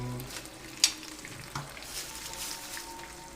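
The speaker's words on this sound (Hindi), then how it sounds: "और उसके बाद डालिए दही" Yogurt is spooned into hot, sizzling masala with amchur for a large pot of chicken handi. A soft, steady frying hiss runs throughout, broken by a couple of sharp spoon clinks against the pot.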